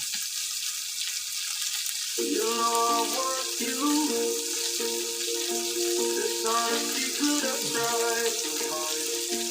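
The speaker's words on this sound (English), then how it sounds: "I can really hear it sizzling, popping." Loud, continuous sizzling and popping of chicken frying in a hot pan, with brief faint tonal sounds over the hiss.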